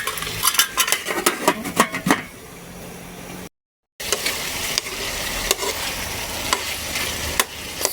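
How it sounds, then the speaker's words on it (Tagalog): Chicken curry sautéing in a pot brings steady sizzling along with scraping stirs and clinks of a utensil against the pan, followed by a brief gap and then a continuous frying hiss. "Sasangkotsahin lang natin siya guys mabuti bago natin i-add yung iba nating mga panlahok dyan sa ating chicken curry."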